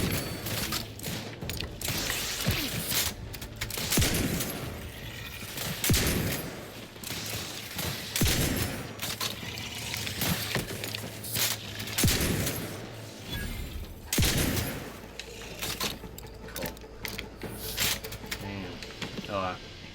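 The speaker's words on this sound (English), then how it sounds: "This shotgun does some good damage." A shotgun firing in The Outer Worlds 2, heavy blasts recurring every couple of seconds with mechanical racking between shots, all under frequent speech.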